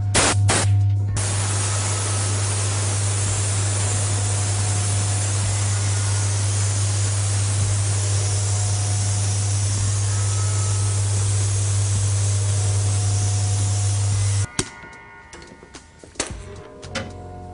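An airbrush spray gun hisses steadily and loudly for about fourteen seconds over a low hum, coating frozen pastries with a warm chocolate mixture at around 50 degrees. It then cuts off, leaving a few faint clicks and handling noises.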